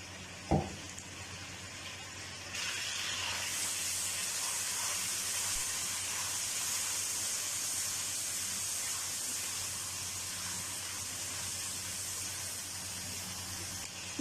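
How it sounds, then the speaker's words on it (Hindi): Ginger garlic paste hits hot oil left from frying onions and tomatoes, setting off a loud, continuous sizzling hiss close by that holds steady for many seconds after a brief knock at the start. "उसी ऑयल में जो कि हमने प्याज और टमाटर वगैरह जिसमें जो है वो ये थे, उसमें डालेंगे अभी 2 चम्मच अदरक लहसुन का पेस्ट"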